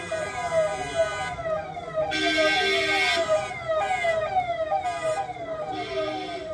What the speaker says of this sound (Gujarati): આગળ પોલીસની ગાડી આવી ગઈ છે ભાઈ।